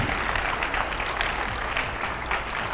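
Dense, steady applause from a studio audience greeting a politician's arrival, a continuous wash of many hands clapping at even loudness throughout, with no speech over it.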